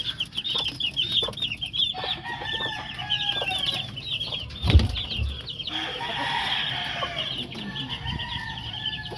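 Backyard chickens cluck busily while being fed, a dense chorus of close clucks and chatter with a wing flap or thump midway and faint rustling throughout.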